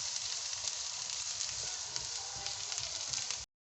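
Potatoes, peas and spices fry in a pan with a steady, dense sizzle that stays close and loud for a few seconds, then cuts off abruptly.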